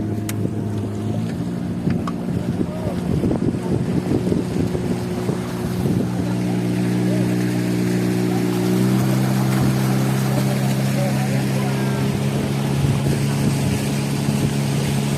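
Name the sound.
motorboat engine on a lake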